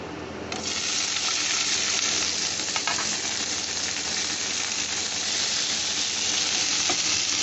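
Grapes dropped into hot spiced oil for a grapes chutney hiss and sizzle loudly and steadily at close range, a sharp burst at the start settling into continuous frying crackle with faint stirring.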